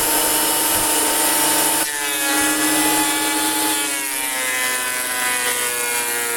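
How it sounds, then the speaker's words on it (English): Rough pallet timber fed through a wood finishing machine, a loud, steady mechanical whine and rumble with rasping cutting noise that shifts in tone as the board passes through, no voices. "So we got rough timber going into this machine, and you can see on the other side there's pretty nicely finished timber coming out."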